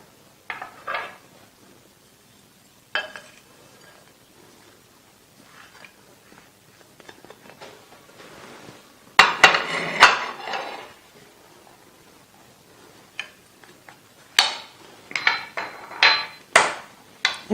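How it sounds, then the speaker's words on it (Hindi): Samosa stuffing is mixed and mashed in a bowl, heard as scattered scraping and clattering knocks of a utensil against the dish, with a busy, louder stretch midway and more bursts toward the end, all close and without voices. "इसको ना मिक्स करते हैं, मैश करते हैं।"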